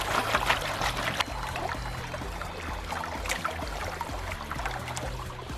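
Water sloshing and swirling steadily in a gold pan heavy with material while panning flood gold, with continuous trickling and splashing close by and a low engine drone underneath throughout.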